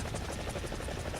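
Helicopter rotor in War Thunder gameplay, a steady loud throbbing chop running continuously through the short stretch with no talk over it.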